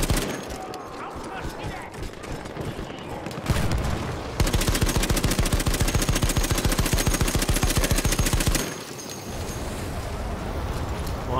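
Battlefield 1 combat with a long burst of rapid machine-gun fire that runs for several seconds among scattered gunshots. Players talk over the loud, close, rhythmic firing.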